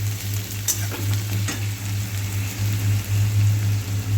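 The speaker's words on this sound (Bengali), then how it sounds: "পেঁয়াজটা ভাজা হয়ে গেছে" Onions frying in a pan for cauliflower keema matar, a steady close crackling sizzle with occasional stirring scrapes.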